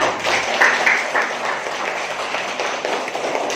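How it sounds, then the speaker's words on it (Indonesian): A classroom full of people claps steadily, a dense, even wash of applause lasting a few seconds without a break. "Berikan tepuk tangan untuk kita semua."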